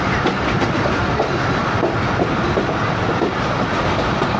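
A train arriving at Chichoki Malian railway station rumbles loud and close with continuous wheel clatter and rhythmic clickety-clack over the rails, with no voices.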